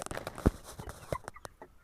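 Three roosters and nine broiler chickens cluck nearby in a small backyard flock in Margilan. The short, soft bursts come in quick succession, with no voices.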